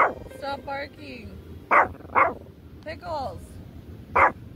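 A dog barks several times in short sharp bursts, with whiny yips between them and a person's voice talking nearby.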